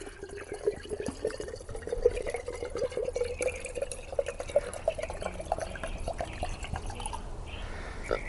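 Water trickles and drips out of a freshly chopped coconut, a faint, close, continuous pouring sound with small splashes and no talking.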